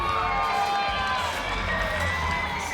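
Crowd cheering and applauding for two fighters at the end of a three-round MMA bout in a cage, a dense, loud roar held steadily throughout.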